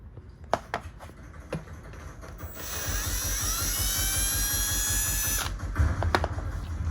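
An electric screwdriver backs two screws out of a Marada racing cockpit seat cushion: a few handling clicks, then about three seconds of steady high whirring, then more clicks and knocks, close and fairly quiet.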